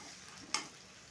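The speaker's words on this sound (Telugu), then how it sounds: "కట్ చేసుకున్న బంగాళదుంపల్ని వేసుకొని ఫ్రై చేసుకోవాలి" Cut potatoes fry in a kadai, a steady faint sizzle with one brief sharper crackle partway through, no voices.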